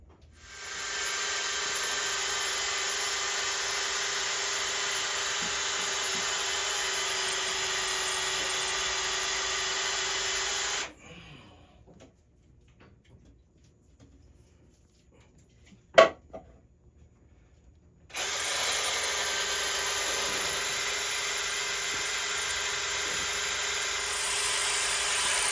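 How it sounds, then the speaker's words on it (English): A drill runs steadily on a broken turbo stud on a 48 Ocean yacht engine, a loud continuous whine for about ten seconds, then stops for several seconds with a sharp knock, then the same steady drilling resumes to the end. "I was trying to drill out the stud."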